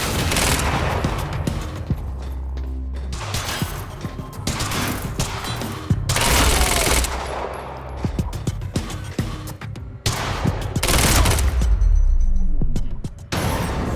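Heavy, sustained gunfire in the video game Quantum Break: loud automatic bursts and single shots come in repeated waves, mixed with booms and clanking impacts throughout.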